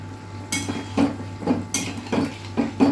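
A lid is set on a cooking pot of Bengali prawn and pumpkin curry, giving several close metallic clanks and rattles in an uneven rhythm over a low steady hum.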